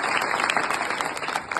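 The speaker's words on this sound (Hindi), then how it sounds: "अपने लिए एक बार जोर से ताली बजाएंगे आप सब" Steady audience applause fills the whole moment, a dense wash of many hands clapping at a school pledge event for girl students, loud and continuous without talk.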